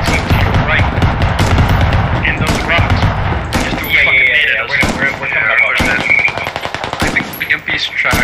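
Dense automatic and rifle gunfire in the Squad combat game rattles in loud rapid bursts throughout, with sharp close shots over distant fire, while someone talks over the battle.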